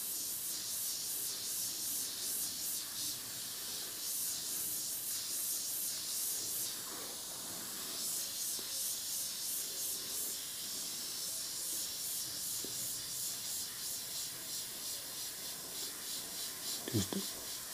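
Airbrush spraying transparent paint in short puffs and dagger strokes, a steady close airy hiss running continuously with slight pulsing as the passes repeat.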